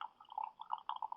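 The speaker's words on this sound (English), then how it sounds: "Hear that? It's the sound of coffee coming into my cup." Coffee pours into a Mickey Mouse mug as a faint, steady liquid stream with small gurgling swells, about a second long, with no voices.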